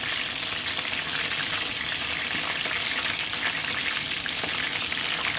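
Food spatters in hot oil with a dense, bright, continuous sizzle and crackle, loud and close, with no voices over it.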